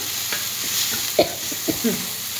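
Crushed dried bombil fish sautéing in a pan as a chutney is made: a soft, steady sizzle broken by a few sharper scrapes and knocks from a spoon stirring close by.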